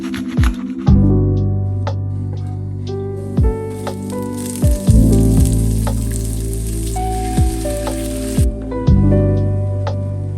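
Cabbage, carrots, onions and garlic fry in a pan for sukiyaki, a steady close sizzle with a brighter hiss swelling through the middle, punctuated by a few sharp clicks and knocks.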